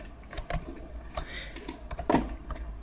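Mouse clicks while drawing lines in geology software on a computer, a scattered series of sharp, close clicks at an irregular pace over quiet room tone.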